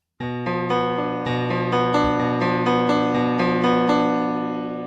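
A rich piano chord with a wrong B natural struck repeatedly, about ten times in a steady rhythm, ringing full and close with a slightly sour, clashing quality.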